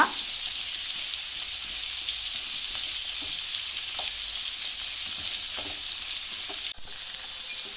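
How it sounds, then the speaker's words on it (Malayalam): Capsicum and onion sautéing in a pan give a steady, close, even sizzle with faint stirring scrapes throughout and no voices. "നമ്മുടെ ക്യാപ്സിക്കവും പിന്നെ സബോളയും ഒന്ന് വഴന്ന് വന്നിട്ടുണ്ട്"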